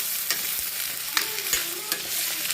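Beans being sautéed and stirred in a pan while cooking, with a steady crackling sizzle broken by sharp scraping strokes of the spoon against the pan, close and alone without talk.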